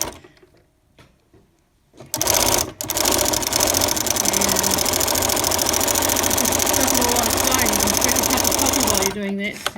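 A domestic sewing machine starts after a couple of quiet seconds and runs continuously, stitching a decorative pattern with a steady, close mechanical whir and rapid needle ticking before stopping near the end, with no talk.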